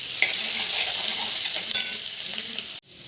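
Garlic and chillies fry in hot oil in a kadai for Indian-style macaroni, giving a steady, close hiss with a few brief stirring clicks before the sizzle cuts off near the end.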